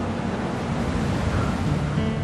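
Southern Ocean waves wash and churn in a steady, close rush of broadband water noise, with a faint wind edge and no talking.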